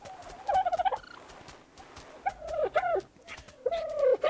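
A bird in the video game Alemia calls in several bursts of warbling, gobbling notes separated by short pauses, fairly close and alone.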